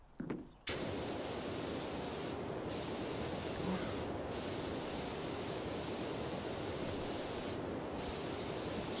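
A pressure washer sprays in PowerWash Simulator, a steady loud hiss of rushing water that starts abruptly and runs continuously for about eight seconds, with brief slight dips in the high hiss.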